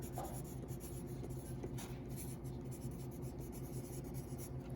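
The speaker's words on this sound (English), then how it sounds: "So I'm just gonna write my name here because I need to know who you are." A name is handwritten on the inside of a paper craft piece for a second-grade Muppets project, producing a soft, continuous scratching of the writing tool under a quiet room hum.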